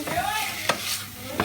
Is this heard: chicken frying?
yes